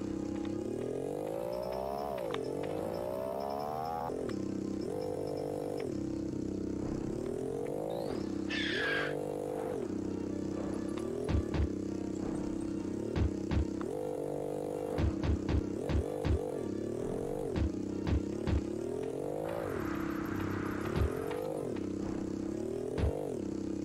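Motorcycle engine from a PS1-era video game, a droning synthetic engine tone that rises and falls repeatedly as the bike revs, with scattered clatter and scraping bumps over the steady hum and no talking.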